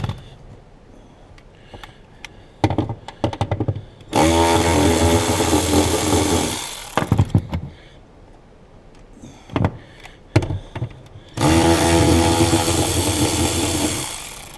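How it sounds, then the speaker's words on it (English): A Milwaukee cordless ratchet spins out 10mm cover bolts during a fuel pump replacement on a 2007 Pontiac Vibe, two loud close bursts of whirring roughly three seconds each, separated by clanks and handling noises. "I'm going to do a review on this Milwaukee cordless ratchet because it's stinking amazing"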